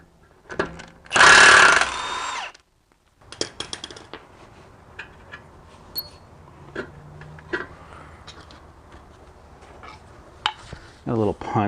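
Sharp metallic strikes of a hammer on a punch, driving a suspension bolt out of a Toyota 4Runner front shock mount, come as a loud burst early, then scattered lighter knocks and clinks of tools in a garage.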